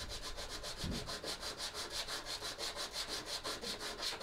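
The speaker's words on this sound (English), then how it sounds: "I'm just gonna rub it against the sandpaper until it fits into the slot nice and snugly" A bone guitar nut for a Telecaster-style parts guitar is rubbed on 120 grit sandpaper on a flat surface, giving close, quick, evenly paced rasping strokes, about five per second, repeated throughout.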